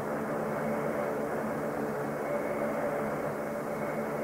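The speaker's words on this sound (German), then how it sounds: "Jetzt bin ich genau neben dem Triebwerk." Steady roar of an airliner's jet engine heard from a window seat right beside the engine in a video game, a constant broadband drone with a faint tonal whine holding level throughout.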